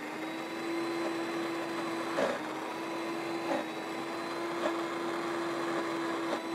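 An electric mixer whirs steadily as it beats eggs, vanilla, ghee, sugar and starch, a constant motor drone broken by a few soft periodic knocks of the beaters against the bowl, heard alone at close range.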